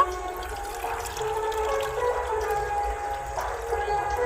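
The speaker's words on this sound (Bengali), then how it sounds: "চার বাটি জল দিয়ে দেব দু বাটি তিন বাটি আর এক বাটি দিয়ে দেব" Water pours steadily into a pan to make sugar syrup for Bengali rasgulla, a continuous close splashing stream lasting a few seconds, with no clear talking.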